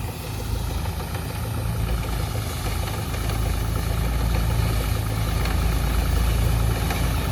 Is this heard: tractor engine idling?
yes